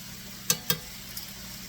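A salmon and leek pie filling stirred in a pan, with two soft clicks of a utensil against the pan over a faint sizzle, then a lighter tap, all quiet and close.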